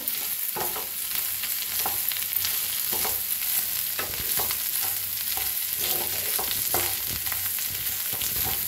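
Potato curry for a fasting meal being stirred in a pan, repeated scraping and clinking of a spoon over a constant hiss of frying, moderately close, with no talk.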